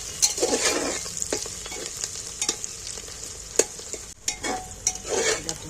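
Onions fried in a pan on a gas flame and stirred often until reddish, a steady close sizzle broken by repeated scraping stirs, no talking.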